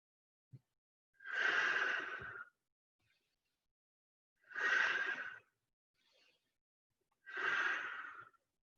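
Slow, deep breaths during a yoga exercise, three long airy exhalations or inhalations spaced a few seconds apart, close and soft, with quiet pauses in between and no talking.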